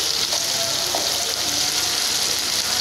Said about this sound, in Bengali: বাটিটা দিয়ে একটু পানি দিয়ে দিলাম